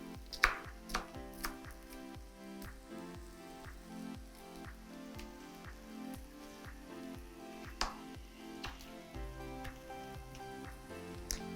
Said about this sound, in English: I'm going to be chopping the peppers, and I'm using this plastic board here.